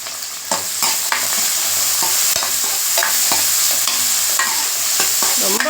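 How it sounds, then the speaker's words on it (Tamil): Onions sizzle steadily in a hot pan, with a spoon stirring and scraping at irregular intervals; no voices. "வெங்காயம் நல்லா வதங்கட்டோங்க."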